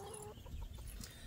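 A small Hamburg hen clucks softly in a backyard flock, a few faint, brief clucks set against steady outdoor background noise with no talking.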